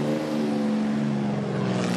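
A Lagonda V12 race car, its engine designed by W.O. Bentley, runs at the Le Mans Classic centenary edition, giving a loud, steady, harmonic engine drone that holds close and continuous for two seconds, brightening slightly toward the end.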